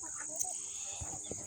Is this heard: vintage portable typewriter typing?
no